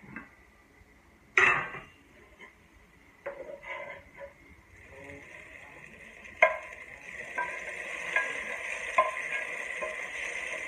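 Onions fry in oil in a pot for a baghar tempering, with a soft sizzle that builds steadily, broken by a few sharp clinks and scrapes of a stirring spoon against the pan.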